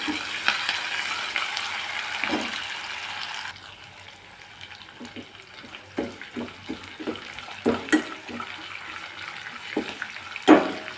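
Chopped onions frying in a hot pan, a steady crackling sizzle with scattered stirring scrapes and clinks, loudest in the first few seconds and then quieter with sharper knocks toward the end.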